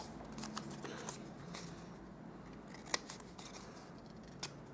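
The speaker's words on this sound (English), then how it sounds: "with these flaps as well, I'm just going to trim off just a little bit" Scissors trim small paper flaps on a handmade Christmas treat box, making several soft snips at irregular intervals, one sharper and louder cut partway through, against a quiet room.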